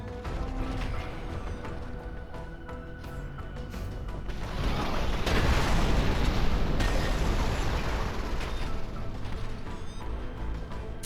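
A missile explosion in Phantom Brigade, a battlefield of mechs, swells into a loud rumbling blast partway through and then trails off into continuing mechanical clatter and noise.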